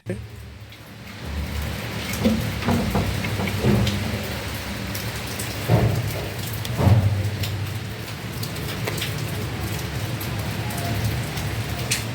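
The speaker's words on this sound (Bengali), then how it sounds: "এইদিকে বৃষ্টির জন্য বাতাস প্রচুর পরিমাণে দেখতে পাচ্ছেন কি পরিমাণ বাতাস" Heavy rain pours in a village during a storm while ducks are being cooked outdoors, a steady loud wash of rainfall with gusts, thunder-like rumbles and thumps around a few points, and faint voices now and then underneath.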